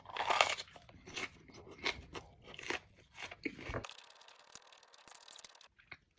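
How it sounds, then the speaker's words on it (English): Close, loud crunching bites and chewing of a hard pepper stem, a series of sharp crackly crunches in an irregular rhythm that turn into quieter chewing and then fade out. "Oh, the stem's really hard to chew."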